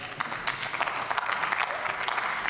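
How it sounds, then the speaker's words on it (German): Health politicians applaud in the German Bundestag during a debate on the Federal Data Protection Commissioner's activity report: a dense, steady patter of many hands clapping in a large chamber, moderately loud throughout. "Die Gesundheitspolitiker klatschen"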